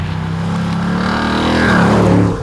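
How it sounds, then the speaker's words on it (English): A Ford Mustang Dark Horse V8 engine revs hard and close, its throaty roar climbing steadily in pitch and loudness before easing off at the end. "this is a rather revvy V8 engine"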